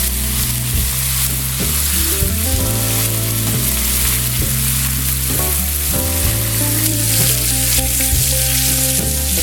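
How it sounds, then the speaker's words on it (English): Bacon sizzling and crisping on a flat top griddle, a constant close hiss of frying fat under a steady repeating tonal pattern, likely background music, with no talk. "Bacon's just about close to being done. It's kind of crispy."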